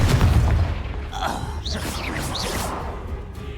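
A fire spell blast in Hogwarts Legacy, the Confringo curse, gives a heavy booming burst up front that decays into a rumbling, whooshing tail with magical shimmering effects.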